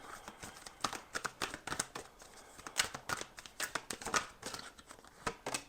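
Tarot cards are shuffled with quick, crisp riffling flutters and soft slaps, repeated in rapid bursts close by, with no talking.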